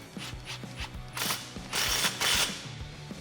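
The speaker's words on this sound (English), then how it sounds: "tighten down your clamp with your 15 socket." A ratchet with a 15 mm socket tightens an exhaust clamp on a 2014-2018 Silverado/Sierra dual exhaust with black tips, giving a quick run of close metallic clicks with bursts of brighter ratcheting strokes, no voices.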